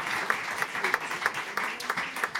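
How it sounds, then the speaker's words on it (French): Audience applause greets a guest speaker at a conference session, a steady patter of many hands clapping in a hall, moderately loud and continuous with a few sharper individual claps standing out. "Et je pense qu'on peut l'applaudir bien fort."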